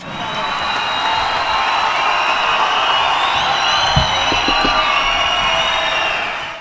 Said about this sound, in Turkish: Bu kadar mı alkış?